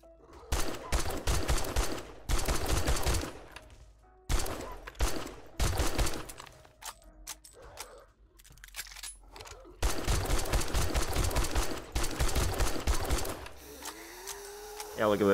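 Automatic gunfire in the zombie survival game 7 Days to Die, long rattling bursts broken by short pauses, close and loud during a horde fight, with a voice talking at times.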